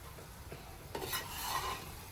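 Chicken liver fry being stirred in a pan after coriander leaves go in, with a few soft scraping strokes and a faint sizzle, quiet and close, no talking.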